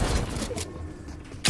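Gunfire in the Fortnite video game: a quick burst of shots at the start, a quieter stretch, then another sharp loud shot at the end, with no talking.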